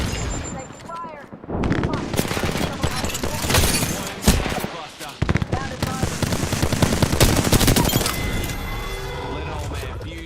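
Loud, dense video-game gunfire rattles in rapid machine-gun bursts and cracking volleys, almost continuous throughout, with game voices and chatter mixed in.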